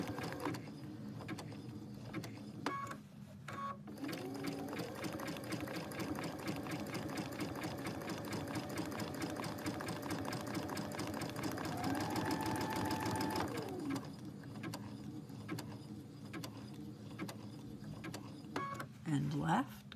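A sewing machine stitches machine reverse applique in a steady whirring hum that runs for several seconds, stops, and resumes briefly, with a voice talking over parts of it.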